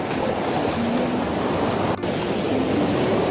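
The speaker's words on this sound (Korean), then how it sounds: "발판 좋은 곳보다 오히려 해변이 더 파도가 괜찮습니다." Sea waves wash continuously onto a fishing beach, a steady broadband surf rush with a brief click partway through.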